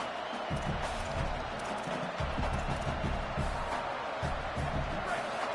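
A college football stadium crowd at Nebraska vs Texas A&M roars steadily and densely throughout, a loud, continuous wash of cheering with no clear breaks.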